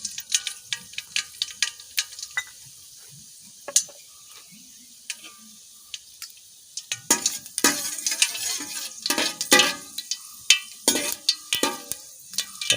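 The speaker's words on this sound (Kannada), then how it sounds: "ಸಾಸಿವೆ ಎಲ್ಲ ಚೆನ್ನಾಗಿ ಸಿಡಿತಾ ಉಂಟು" Mustard seeds splutter in hot oil in a pan after fried peanuts, sharp irregular pops and crackles that start sparse and quiet, then burst into dense, loud popping in the second half.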